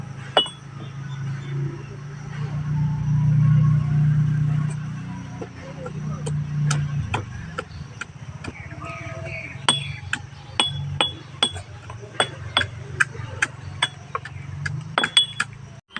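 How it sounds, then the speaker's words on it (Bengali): Jamun fruit being pounded and crushed for a spiced mash with chilli, salt and sugar, heard as irregular clinking knocks that quicken into rapid taps, under a low steady hum and occasional talk. "এখন এই যে জামগুলো বেটে নেবো"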